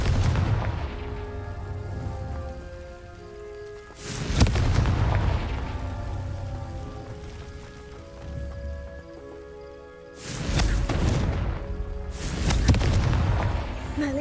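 Confringo fire-blast spell cast in Hogwarts Legacy on PS5, heard as three heavy booming explosions roughly six seconds apart over a steady musical game score, each burst loud and rumbling with a short crackling tail.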